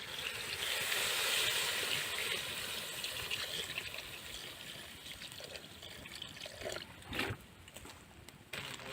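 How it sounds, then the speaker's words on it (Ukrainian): Water poured into a cauldron of bograch with smoked ribs cooking over an open fire outdoors, a steady broad splashing wash that fills most of the stretch with a few louder gushes near the end. "Напаємо водичку."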